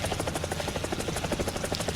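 Loud, near helicopter noise from the Roblox horror game Frigid Dusk, a continuous rhythmic rotor chop over a dense engine roar, steady for the whole stretch.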